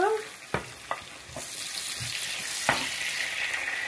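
Eggs frying in a pan as tomatoes are dropped in, a soft steady sizzle broken by several sharp clinks and stirring scrapes, close and fairly quiet, with a brighter hiss rising midway.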